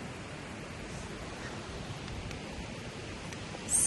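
Staubbach waterfall in Lauterbrunnen, swollen by recent rain, pours in a steady broadband rush that holds evenly throughout, with a brief louder gust at the end.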